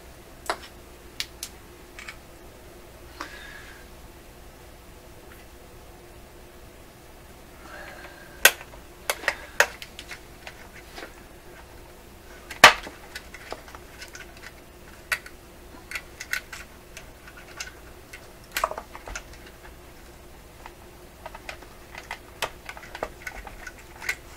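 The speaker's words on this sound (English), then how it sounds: "I'm trimming these wires right off close to the terminal here" Cutters snip wires close to a terminal inside an Electrohome Chippendale console, making sparse, sharp ticks and clicks at irregular intervals, close and quiet, with faint handling noise between.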